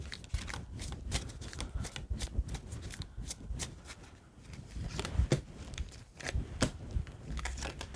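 Tarot cards being shuffled and drawn from a deck, a dense run of crisp riffling flutters and snapping card slaps that keep going close to the microphone, with no voice.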